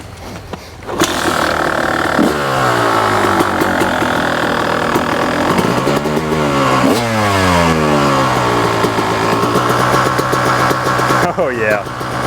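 A two-stroke dirt bike fitted with a hand-made JSV cone pipe starts up and runs loud and close, rising and falling through repeated revs for about ten seconds before cutting off near the end.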